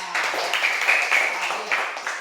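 Classroom students clap together in a brief burst of hand claps, fairly close and moderately loud, over faint room sound.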